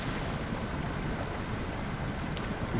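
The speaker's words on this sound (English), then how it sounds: "There's a lot of water flowing through." Water sloshing and churning through deep, boggy mud around a truck in SnowRunner, a steady loud rushing wash with no talk over it.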